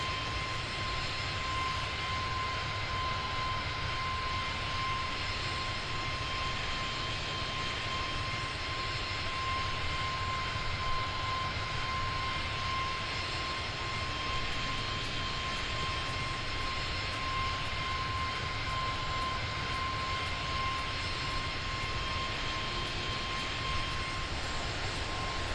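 Steady airliner engine drone in flight shortly after departure from Oakland, a continuous broadband roar with a faint steady tone running through it, even and unbroken throughout with no talk.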